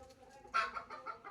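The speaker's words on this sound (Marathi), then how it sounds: "हे कोंबडे आता बघा कसे आरवत आहेत" Roosters crowing at a rural home in Palghar, a few short, faint calls and clucks in quick succession, with coconut palms nearby and no talking.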